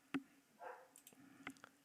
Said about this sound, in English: And even the dogs can have their say in the background if you can hear.